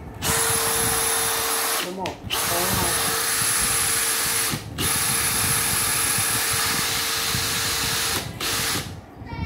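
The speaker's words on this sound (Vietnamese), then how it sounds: "Con này là khoan 3 chức năng." HB480 three-function rotary hammer drill runs at a steady, loud, whining drone for most of the stretch, cutting out briefly in a few short pauses as it is switched between settings, while someone speaks over it.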